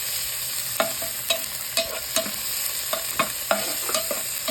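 Squid cooking in a pan for adobong pusit, a steady sizzle under repeated rhythmic scrapes of a spatula stirring, close and fairly loud.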